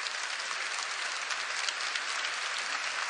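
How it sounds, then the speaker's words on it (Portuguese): A church congregation claps together in sustained applause, a dense even roar of many hands lasting throughout, fairly close and steady, with no voices over it. "Uma salva de palmas para o nosso Senhor Jesus."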